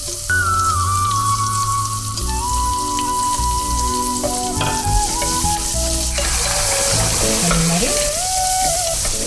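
Finely chopped onion fries in a pan for ghee rice, with a loud, continuous sizzle and crackle close up, while steady tonal music plays over it.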